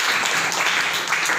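A classroom of students claps for a classmate, a short burst of dense, close applause that stays even throughout.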